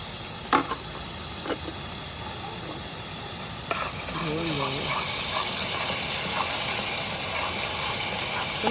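Ginger, garlic, green chili and coriander paste hits hot oil in a pan cooked outdoors for a Malvani-style goat blood dish, a loud steady hiss that swells midway and keeps going, with speech over it.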